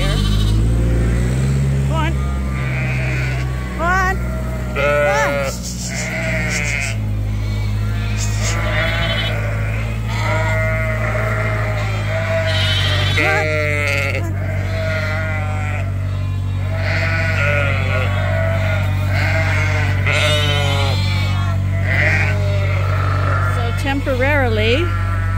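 Sheep bleating in a back pen on a farm, calls overlapping with a steady low engine hum and occasional people talking throughout.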